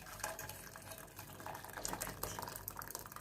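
Liquid poured into a pot of urad dal (kolaier dal) that has already been tempered, a steady splashing pour with scattered drips, fairly close and fairly quiet, with no voices.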